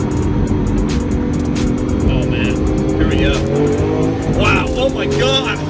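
A Lamborghini Aventador SV accelerates hard, its loud engine roaring steadily close by from inside the car, with excited voices talking over it.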